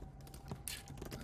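Keys on a computer keyboard clatter in a quick, soft burst of typing, close and fairly quiet, with a faint voice in the background.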